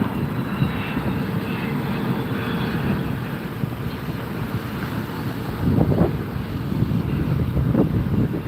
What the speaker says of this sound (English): Business jet.